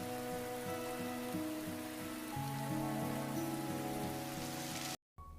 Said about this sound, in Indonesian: Lalu kilat menyala, hujan menghentikan mereka, dan mereka pun pergi sambil hujan-hujanan.